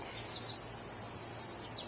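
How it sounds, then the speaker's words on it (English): A constant high, shrill drone of cicadas fills the air, loud and unbroken, with a few faint bird chirps mixed in. "Sound of the cicadas, man."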